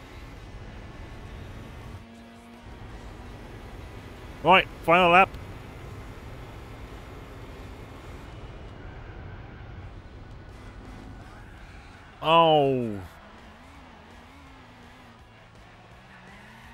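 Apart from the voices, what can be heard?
Mercedes SLR car with modified exhaust racing, from video game Gran Turismo 4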